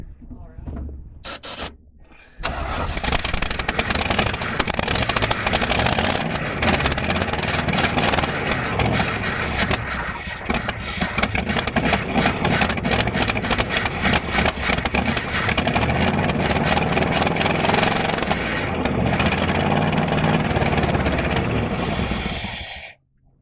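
A 1983 Chevy C20 pickup engine cranks, catches and settles into a loud, rough, steady idle heard up close, with a few mechanical rattles running through it for about twenty seconds.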